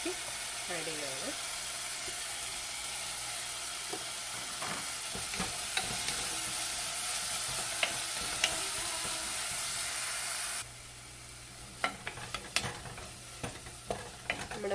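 Chopped coriander leaves and tomato get stirred in a rasam pan: gentle sizzling, scraping and soft clinks of a spoon, with the sizzle dropping partway through and a few sharper taps near the end.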